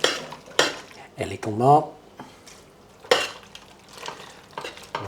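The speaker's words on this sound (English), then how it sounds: "I'll add a little sauce to my pasta and I'll mix it together" Pasta being mixed with a creamy sauce in a pan, scraping and clinking utensil strokes against cookware in irregular bursts, with a short spoken remark between them.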